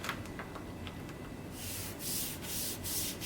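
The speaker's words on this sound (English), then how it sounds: "And now I'm just gonna start rubbing like this." A skin sticker being rubbed onto a PlayStation 5 console, a steady close hissing rub that grows louder and broader halfway through, pulsing in short repeated strokes.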